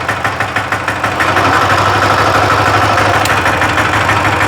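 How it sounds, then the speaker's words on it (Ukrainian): A Weima WM1100A 6 hp diesel walk-behind tractor drives in second gear at raised revs, a loud, steady, close chugging engine drone with fast even pulses throughout and no talk. "Тепер ставлю другу швидкість і їду вперед. Друга швидкість дійсно така, збільшені оберти."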